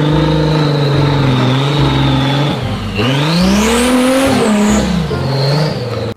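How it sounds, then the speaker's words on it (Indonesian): Toy off-road car engine sound effect, a loud steady electronic motor drone with revving pitch that rises and falls, running continuously alone with no talk. "Wohoho, mobil off-road."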